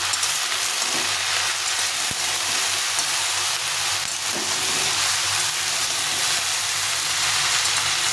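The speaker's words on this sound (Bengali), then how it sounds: "এখন আমি যে সবজিগুলো কেটে রেখেছিলাম সেই সবজিগুলো দিয়ে দেবো। একটু ভালো করে নাড়াচাড়া করে দিতে হবে।" Mixed cut vegetables, including young jackfruit, sizzle steadily in a hot frying pan as they are stirred, a continuous close frying hiss with faint scraping and no voices.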